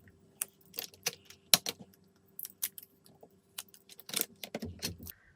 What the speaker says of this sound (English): Now let's take off the paper wrappings.